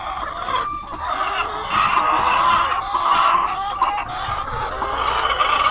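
Hens on a small farm cluck and chatter continuously, close and loud, several birds overlapping in a busy, steady stream.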